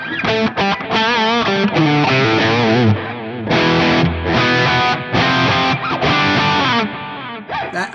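An electric guitar runs through a Fractal FM9 JCM800 preset with a quarter-note echo, playing loud, heavily distorted chords that ring out continuously with brief gaps between strums.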